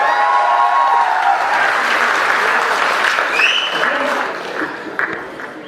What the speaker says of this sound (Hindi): हाथ उठा के मुझे बताएं तालियों के साथ।